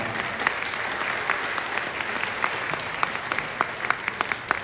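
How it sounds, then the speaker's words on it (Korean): Audience at a Korean academic lecture event gives warm applause, a steady, dense clapping from a full hall with a few sharper claps standing out near the end. "다시 한번 뜨거운 박수 부탁드립니다"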